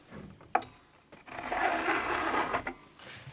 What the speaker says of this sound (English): you can just file away the fret ends like so